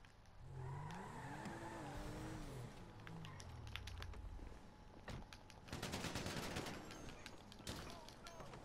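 Gunfire attacking a car in GTA 5 Online: rapid bursts of automatic shots crackle in close succession after an engine revs, loud and dense, with a voice speaking over the opening.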